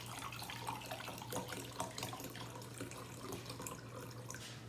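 Liquid, a mix of vinegar and water, pours and splashes into a bowl for tie-dye soaking; a faint, steady trickling stream with a low hum behind it.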